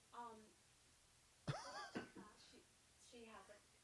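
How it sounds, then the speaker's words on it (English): A child coughs sharply once or twice at close range between bursts of quiet speech from others in a room. "She has a cough."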